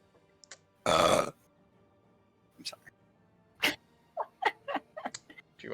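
Several burps and short vocal grunts come from people playing Europa Universalis IV, starting with one long loud belch and followed by a string of brief bursts spread over several seconds.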